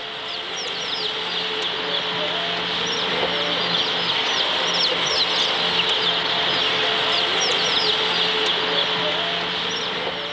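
A crowded shed of battery hens gives a dense, constant clucking and chirping chorus, loud and close, with no pauses over a steady background hum.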